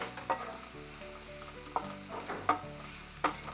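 Turmeric and Kashmiri chili powder sautéing in a pan with masala for an egg wrap, a soft steady sizzle under repeated scraping stir strokes of a spatula against the pan, close up and without any talk.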